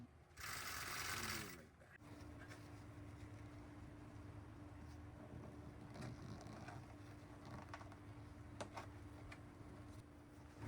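A sewing machine stitches leather onto a curved pod. It opens with a brief loud burst, then settles into a steady, faint mechanical hum with a low whine.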